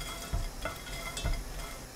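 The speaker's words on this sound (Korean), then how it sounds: "냄비에 손질한 국물용 멸치 15마리 넣고 센 불로 1분 볶습니다" Fifteen cleaned soup anchovies stir-fry in a pot over high heat, giving a steady sizzle broken by a few soft scrapes and knocks of a utensil against the pot.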